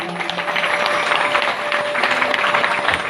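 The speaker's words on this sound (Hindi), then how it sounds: "एक बार जोरदार ताली।" Audience applause on the last day of a Ram Katha recitation at Kalpeshwar temple, a dense steady wash of many hands clapping, loud and sustained without a break.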